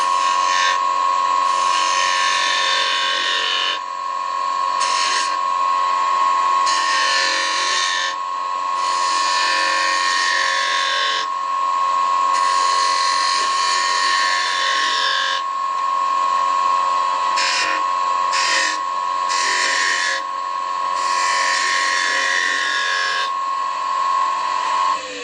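Skew chisel cutting beads on spindle stock spinning on a wood lathe, a steady motor whine underneath with repeated bright scraping cuts that come and go, loud and close, the tool sticking at moments.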